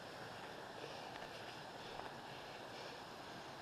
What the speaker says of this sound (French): La cascade de la Pisse.